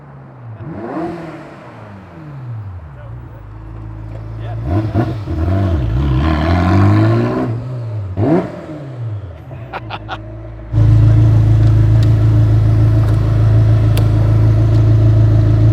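A Spec Miata race car revs and shifts up and down through gears as it passes, then a loud steady engine drone takes over, close and continuous.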